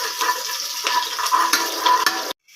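Onions sautéing in a pan for a mutton and drumstick curry give a steady close sizzle with faint stirring scrapes, continuous for about two seconds before cutting off abruptly.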